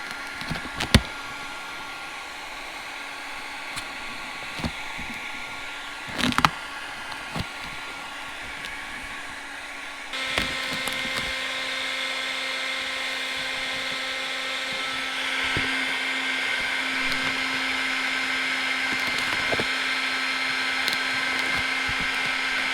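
A heat gun blows a steady, close airy hiss while warming TeckWrap Hunter Green vinyl wrap on the rear bumper of a Lexus RC F, interrupted by a few sharp taps and crinkles, with the tone shifting brighter partway through.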